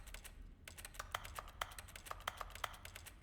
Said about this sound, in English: You like the sound of my keyboard?